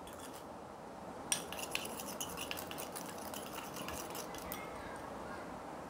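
A multani mitti face pack being mixed in a small bowl, with soft scraping and light clinks of a spoon against the bowl in a brief run, faint and close.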